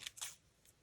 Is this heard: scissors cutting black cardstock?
yes